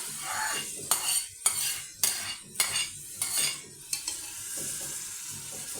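Ground tomatoes frying in a cooked spice masala for a ridge gourd, potato and capsicum sabzi, with a soft sizzle broken by about eight sharp spoon strikes and scrapes against the pan in quick succession.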